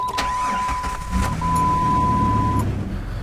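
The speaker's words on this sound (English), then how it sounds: "take your key, put it in the ignition, and turn it until you hear the engine catch" A car engine turned over with the ignition key, a brief crank that catches into a steady low idle rumble, close and clear with no talk, while a thin constant tone runs alongside.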